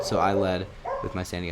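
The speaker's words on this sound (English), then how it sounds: "Sorry if you can hear my dog in the background." An excited dog barks in the background of a room, the yips mixed with and partly covered by someone talking over them.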